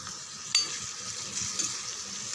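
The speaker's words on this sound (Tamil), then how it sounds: "பாதி அளவுக்கு வதங்கட்டும் ஃப்ரெண்ட்ஸ் வெங்காயம்" Onions cooking in a pan with green chillies and curry leaves, giving a steady close hiss of frying that runs without a break, with a soft stir or clink near the start.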